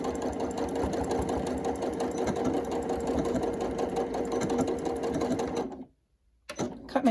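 A sewing machine runs a quarter-inch seam along a continental pin cushion. Its needle chatters in a fast, steady mechanical rhythm for several seconds, then cuts off abruptly, followed by a moment of silence and a few small handling noises.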